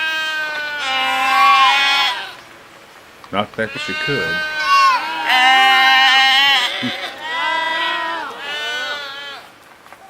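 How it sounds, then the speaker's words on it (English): Goats bleat loudly several times in wavering, drawn-out cries, with a brief spoken remark in between. "And don't forget the goats."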